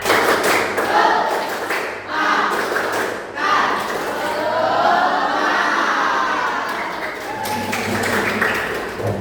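An eighth-grade class at a junior high school claps a rhythmic spirit cheer, loud bursts of clapping and thumps that come in groups and mix with the children's chanting voices.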